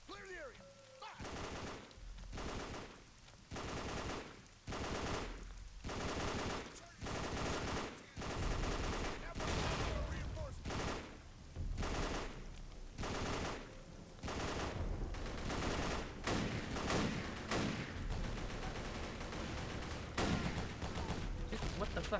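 Repeated bursts of rifle and machine-gun fire in The History Channel: Battle for the Pacific on Xbox 360, loud, rapid, and closely spaced, with brief pauses between volleys over a constant battle din.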